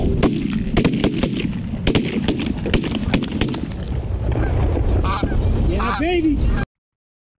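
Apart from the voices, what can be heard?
geese honking during a goose hunt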